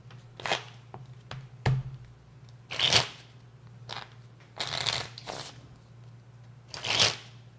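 Playing cards shuffled by hand in a Portuguese-style shuffle, giving several short riffling bursts with pauses between them, close and fairly quiet with no talk over them.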